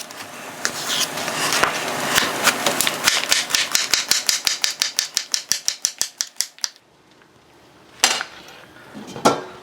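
A vegetable being sliced with a knife on a cutting board for smoked chicken soup: a quickening run of sharp, regular close chops, a short silence, then two more isolated cuts.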